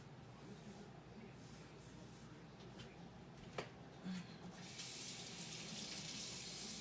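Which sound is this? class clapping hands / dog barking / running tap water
running tap water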